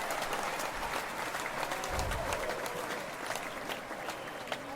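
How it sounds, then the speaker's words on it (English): Steady applause from a studio or live-show audience welcoming guests on a talk show, a dense even wash of clapping that holds for the whole stretch without talk. "Well, that's a lot of applause."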